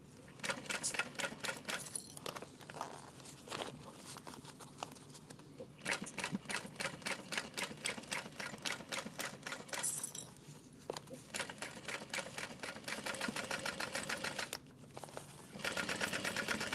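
A sewing machine stitches a Rosie sling in quick rapid bursts of mechanical clatter with short pauses between runs, faint and close, without talking.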